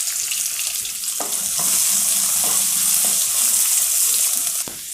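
Long-sliced onion sizzles in a pan for a lunch box dish, a steady bright frying hiss with a few soft clinks and stirring bumps.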